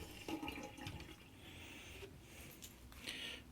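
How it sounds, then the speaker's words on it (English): A spoon is rinsed under a running kitchen tap, a faint, close hiss and splash of water lasting a few seconds with no talking. "Rinse our spoon off."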